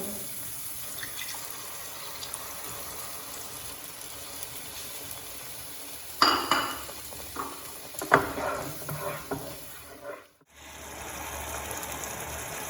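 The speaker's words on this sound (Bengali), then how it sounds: "এবার আমি কোকোনাট মিল্ক অ্যাড করব।" Coconut milk poured into spice paste frying in oil in a pan for Bengali prawn malai curry, giving a steady soft sizzle with a few louder splashing bursts of liquid hitting the pan partway through.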